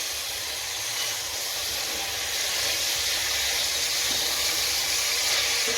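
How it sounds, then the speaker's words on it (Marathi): Carrots for gajar halwa sauté in ghee over a high flame, giving a steady, loud, broad hiss that holds evenly from start to finish with no talking. "तूप घालून आपण याला चांगलं परतून घेणार आहोत"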